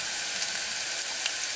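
Garlic and ginger frying in a hot pan, a steady close-up sizzle that runs unbroken, with faint crackles and pops scattered through it and no talking.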